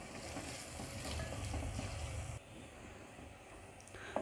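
Garlic-ginger paste frying with onions for bhuni dal mash, a faint, soft steady sizzle with light stirring, easing slightly partway through.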